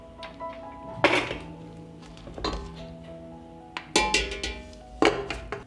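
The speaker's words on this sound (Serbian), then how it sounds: "Zatvaram tegle. Tegle stavljam u ekspres lonac." Glass jars are set down into a metal pressure cooker, producing several distinct ringing clinks and knocks at uneven intervals, close and fairly loud, with no talking.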